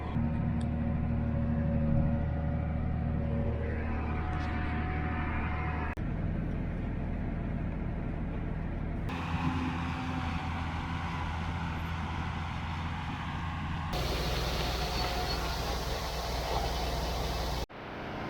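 A tractor pulling an auger cart toward a corn field at harvest, heard from inside as a loud, steady engine drone and rumble that shifts in character a few times over the ride.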